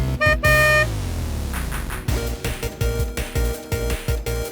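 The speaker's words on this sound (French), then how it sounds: "Qui me klaxonne?" Car horn honking in short bright blasts at the start, followed by a steady rhythmic series of horn-like tones at a fairly loud level, with no talk.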